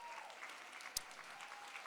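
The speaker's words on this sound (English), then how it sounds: "Give her a round of applause." Audience applause at a workplace talk, a continuous wash of many hands clapping at moderate distance, fairly faint, with one sharp knock partway through.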